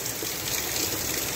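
Thunderstorm rain falls as a dense, steady hiss and patter, loud and close, with no voices over it.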